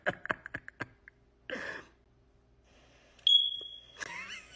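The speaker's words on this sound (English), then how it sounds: "The first time our smoke detector beeped, we were sleeping." A smoke alarm gives one piercing high-pitched electronic beep, preceded by scattered clicks and a brief rustle, with shuffling noise after.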